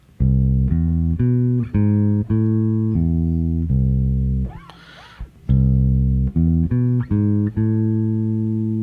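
Sustained low bass notes move through a short chord progression, shifting step by step, with a brief pause and a scratchy noise in the middle.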